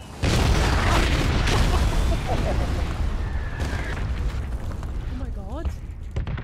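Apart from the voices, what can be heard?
red zone artillery explosions in the video game PUBG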